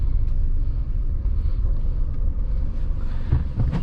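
A car idles and creeps backward in reverse, its engine a steady low rumble close by with faint scuffs and wind noise over it, no talk.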